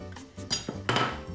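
Fruit muddled in a glass with a wooden rolling pin in a home kitchen, giving a few dull knocks and clinks of wood against glass at close range, with no talking.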